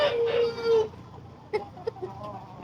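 Chickens on a village farm give a drawn-out crow-like call, then a few short, scattered clucks sound nearby, each separated by brief quiet.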